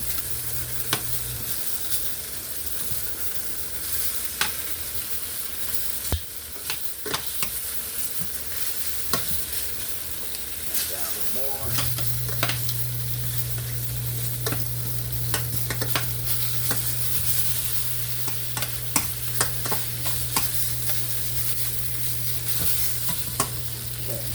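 Smothered oxtails simmer in a pan, a steady, soft bubbling sizzle running throughout with occasional sharper stirring clicks and a low background hum.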